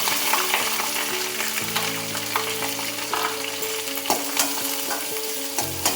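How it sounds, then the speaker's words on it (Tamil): Onions, green chillies and curry leaves sauté in oil with mustard seeds for seeralam, a loud continuous sizzle broken by frequent stirring scrapes and clinks close by. "வெங்காயம் போட்டு நல்லா வதக்கும் போது"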